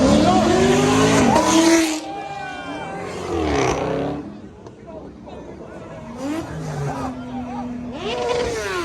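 Car at a car meet downshifts and accelerates hard, engine revs rising and falling in loud bursts with tire squeal, while people talk and shout over it nearby.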